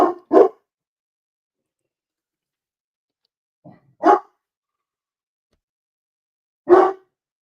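A dog barks at someone walking past a window, giving a sharp double bark and then two more single barks spaced apart, loud and close with silence between.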